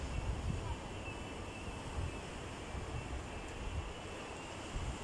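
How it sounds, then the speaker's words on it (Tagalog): Rough sea surf and gusty wind on the coast at Shek O village in Hong Kong form a steady, loud wash of waves and buffeting wind noise with no pauses. "Maalon ang dagat at mahangin."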